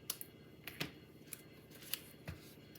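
Scissors trimming a paper pillow box panel, a handful of quiet, crisp snips spaced irregularly over a few seconds, close by with no talk.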